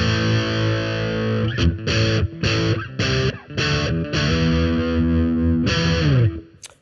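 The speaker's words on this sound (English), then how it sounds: "a power chord is that chord you hear that's distorted on the guitar, typically the sound of rock" A distorted electric guitar power chord is struck again and again, each loud, buzzing sustain broken by short choked gaps in an uneven rhythm before a final ringing hit fades out.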